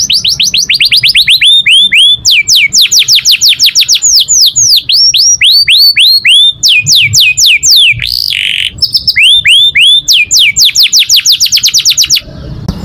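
A green-variegated F1 YS canary sings loudly and close up, a rapid, continuous stream of bright trills and repeated chirps with brief breaks, alone without talk.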